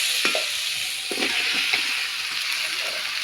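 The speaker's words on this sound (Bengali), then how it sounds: "মশলা সুন্দর করে আমার কষা হয়ে গেছে। দেখুন মশলা দিয়ে তেল ছেড়ে দিচ্ছে।" Spice paste for a Bengali fish curry with taro and eggplant fries in oil while being stirred, giving a steady close sizzle with a few soft scraping strokes and no talk.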